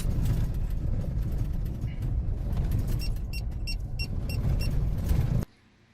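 A 4WD car crawls along a skinny dirt bush track, its engine and tyres rumbling heavily from inside the cabin while something rattles and jingles in quick bursts, before the noise cuts off abruptly.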